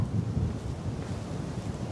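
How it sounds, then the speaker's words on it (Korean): Steady roar of strong wind buffeting the microphone, low and rumbling throughout with no voices. "바람 소리가 장난 아니야"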